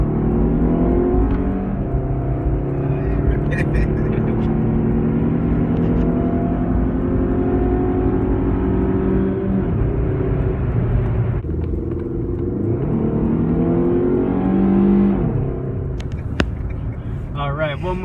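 A Chrysler PT Cruiser engine, limited to about 4,000 RPM, holds a steady, loud rev with its pitch rising and falling, recorded close up with no talk over it.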